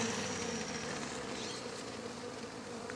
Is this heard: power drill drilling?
no